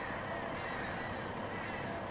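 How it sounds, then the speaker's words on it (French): Crows cawing near a cemetery path, faint and distant calls over a steady outdoor hiss, with no voices. "je sais pas si les corbeaux sont méchants"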